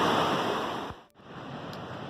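River water rushing steadily along a mountain trail crossing, a broad, close roar that briefly dips and cuts out midway before resuming.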